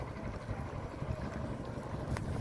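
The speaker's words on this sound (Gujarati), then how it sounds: "ઓલી બોટ આવે છે" A boat moving across Victor harbour bay, carrying a family, with a steady low engine and water rumble plus wind buffeting the microphone, continuous throughout.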